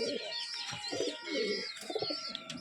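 Several pigeons coo close by in low, rolling calls, with faint chirps and fluttering around them.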